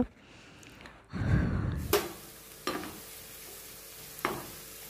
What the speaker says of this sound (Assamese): এতিয়া উল্টা পল্টাই অকণমান সময় ভাজিব লাগিব